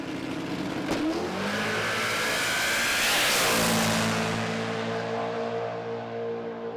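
Drag racing car launching hard down a strip at a Brisbane jamboree, a loud sustained engine roar that swells and sweeps past mid-run before settling into a steady high drone, with no talk.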